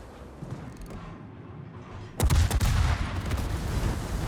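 Ship guns firing in a naval combat video game, a sudden loud burst of gunfire followed by sustained rumbling blasts and crackling reports over a steady low background.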